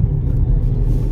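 A Tata Tigor CNG car runs in third or fourth gear, its engine a steady low rumble heard from inside the cabin, loud and unbroken with no talk.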